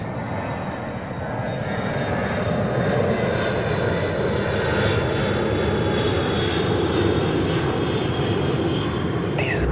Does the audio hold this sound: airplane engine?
yes